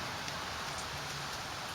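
Steady rain falls outside, a constant close hiss of drops on surfaces with no break and no voices.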